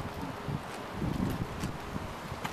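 Wind gusting outside a house, a steady broadband rush buffeting the microphone, with faint rustling and brief low thumps.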